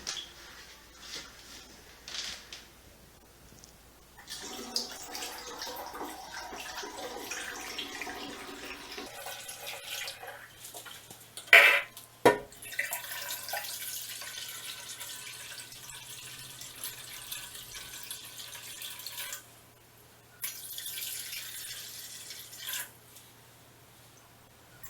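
Conditioned water poured into an oak barrel holding lavender flowers for wine, a steady splashing gush that runs for most of the stretch, with a few handling knocks partway through.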